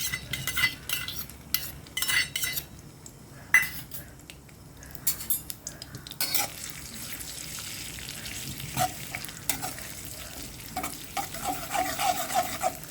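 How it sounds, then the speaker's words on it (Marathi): Minced mutton and onion sizzle in hot oil for a kheema, with a spoon repeatedly scraping and clinking against the pan as it is stirred; the frying hiss is steady and grows denser in the second half, with no voices. "दोन पळ्या तेल टाकायचं खिमा आहे ना कांदा टाकायचा"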